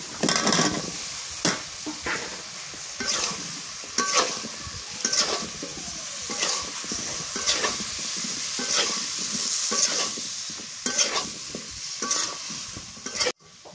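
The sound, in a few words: cauliflower added to a pan, frying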